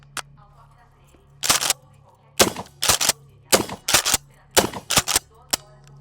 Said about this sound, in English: So I was able to shoot mini shells as well as 2 3/4.